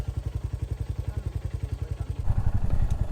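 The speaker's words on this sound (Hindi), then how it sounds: "करते हैं बाइक स्टार्ट।" A motorcycle engine thumps in a fast, even idle rhythm close to the microphone, then swells into a louder, rougher rev near the end, with no talk.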